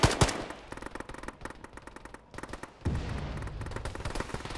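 Gunfire in the military video game Arma, rapid bursts of automatic shots crackling in quick rhythm, moderately distant and fairly quiet, with a brief lull before the firing picks up again.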